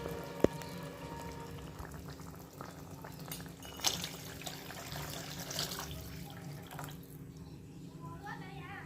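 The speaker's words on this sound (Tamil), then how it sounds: "இப்போ இதுக்கு தேவையான அளவு தண்ணி சேர்த்துக்கலாம்." Water poured into a pan of fish curry with tamarind water, a steady soft liquid pour and bubbling running for several seconds in a quiet kitchen, with no talking.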